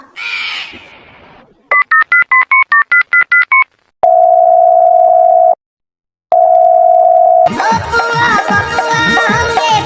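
A brief rustle, then a quick run of telephone keypad dial beeps followed by two long steady dial tones separated by a pause, before loud music starts.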